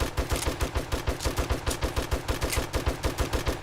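Rapid automatic gunfire from the video game 7 Days to Die with the Rebirth mod, a steady, fast stream of evenly spaced shots lasting the whole stretch, loud and unbroken, with no speech.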